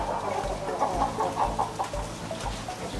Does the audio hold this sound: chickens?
yes